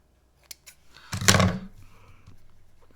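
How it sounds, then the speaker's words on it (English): Scissors snip a bit of fluff off a small handmade Girl Guide swap craft. Two light clicks come first, then one louder, close crisp snip with a short rattle after it, and no voices. "Just trim that bit of fluff off."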